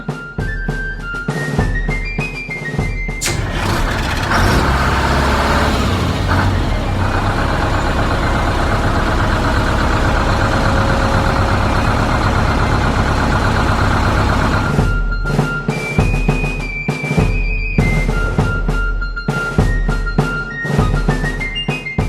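A bus engine idles in an animated series while the bus sits still. A loud, dense rumble holds steady for about twelve seconds, with voices and bright tonal sounds before and after.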